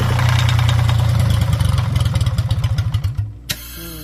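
An old Japanese ISEKI three-cylinder diesel engine runs loud and close with a rapid, steady knocking chug, then slows into separate thumps and shuts down, ending in a brief clunk.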